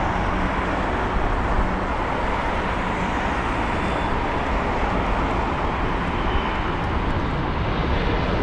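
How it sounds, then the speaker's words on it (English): A Finnair Airbus A320 comes in to land at London Heathrow, a steady broad roar of jet engines holding at an even level throughout, with faint distant traffic mixed in and no talk. "that Finnair 320 really just holding that flare, floating"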